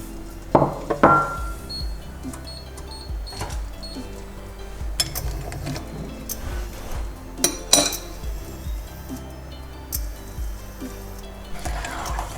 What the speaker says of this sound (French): on continue de remuer parce qu'on voit qu'il y a encore des petits bouts qui ne sont pas tout à fait fondus